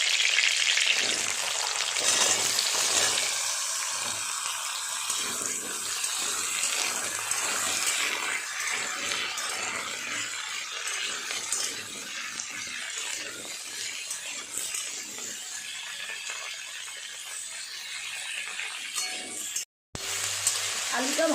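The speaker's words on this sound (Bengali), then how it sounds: "এবার আলুগুলো দিয়ে দেবো।" Potatoes frying in hot oil with black cumin seeds, a steady close sizzle running unbroken throughout with a brief dropout near the end.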